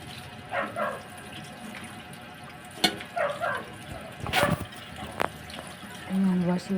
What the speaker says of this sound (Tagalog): Ayan, washi-washi natin ang ating chop suey na gulay.